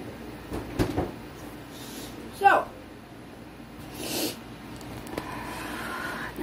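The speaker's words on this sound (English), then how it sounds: "Open the bottom freezer door, please." The bottom freezer door of a home freezer is pulled open with a soft thud and a seal-release rustle, followed by a second muffled knock. A voice murmurs faintly in the background.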